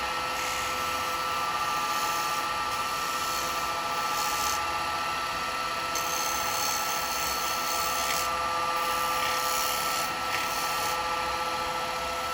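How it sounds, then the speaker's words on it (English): A detail chisel cuts a small chamfer on a spinning wooden candlestick on the lathe, a continuous loud whirring hiss with a steady tone and slight scraping changes, nobody talking. "Go with the detail chisel, and I just want to take that little chamfer"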